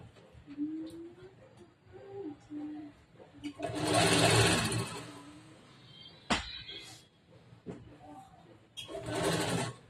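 A sewing machine stitching blouse lining runs in short and longer bursts of whirring, loudest in the middle and again at the end, with quieter handling noise and soft speech-like sounds in the gaps.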